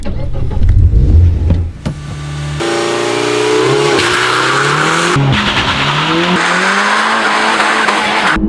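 Peugeot RCZ R 270 THP with a twin-pipe exhaust, heard while driving: a loud, close engine drone that climbs steadily under acceleration through the gears, with brief tyre squeal and gear-change breaks.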